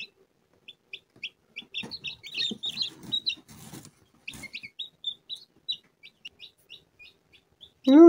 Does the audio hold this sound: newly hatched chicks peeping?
yes